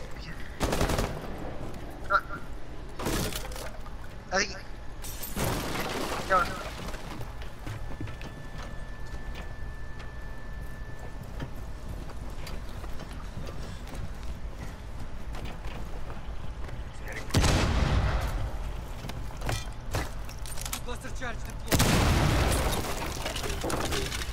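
Loud, close bursts of gunfire from the video game Rainbow Six Siege break out at several moments, separated by quieter stretches of game ambience.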